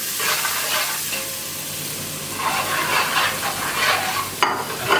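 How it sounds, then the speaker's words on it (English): Onions sizzling and frying steadily in hot oil for a pork qurma, a loud continuous hiss with brief stirring noises and a sharp clatter near the end, no talking. "Let's add the onions because the oil is quite hot."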